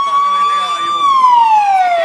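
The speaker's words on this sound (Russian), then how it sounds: "Ой-ой-ой, какая сирена." An emergency vehicle siren wails loudly nearby at a police and fire station open day, one long tone holding steady then sliding downward, with a faint vehicle rumble beneath.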